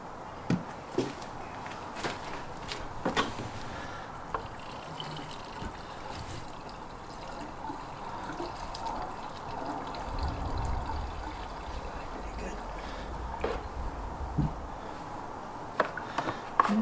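Fuel additive poured from a can into lawn mower gas, a faint, steady trickling pour running for several seconds with small clinks at the start and end.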